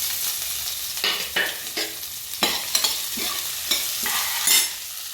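Chopped onions added to roasted millet flakes sizzle and fry in a pan for a millet-flake and moong dal upma, with repeated close scraping and stirring strokes over a steady frying hiss.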